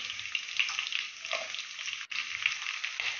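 Onions frying in a pan of oil for chilli chicken, a steady bright crackling sizzle that continues close and loud with one brief dip midway.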